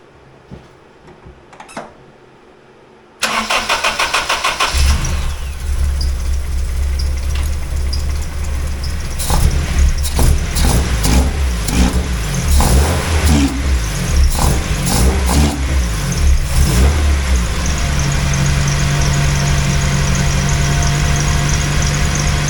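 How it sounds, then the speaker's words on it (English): A Honda K20A3 four-cylinder fitted with individual throttle bodies cranks, catches and roars to life, then idles loud and close with several sharp revs and a rough, rising drone. "so we're gonna go ahead and fire it up."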